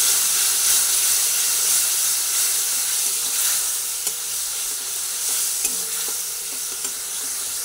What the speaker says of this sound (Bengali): আরও অল্প জল দিলাম, মশলাটাকে কষিয়ে নিচ্ছি।